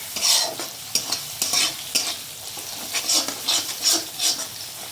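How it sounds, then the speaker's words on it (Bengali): Spice paste with ginger-garlic paste and Kashmiri chili frying in oil over low heat, sizzling while a spoon stirs and scrapes the pan in repeated rhythmic strokes, close-up and without talk. "এটাকে ভালো করে কষিয়ে নেব যাতে মশলা কাঁচা গন্ধটা না থাকে"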